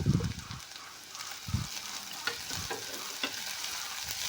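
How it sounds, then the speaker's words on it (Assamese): Onions browned and now mixed with ginger-garlic paste sizzle steadily in a pan for a fish curry, with a few soft stirring knocks and scrapes breaking through the continuous frying hiss. "এইখিনি এতিয়া মই ভালদৰে মিলাই লৈ অলপ সময় এনেকৈ মই ভাজি ল'ম"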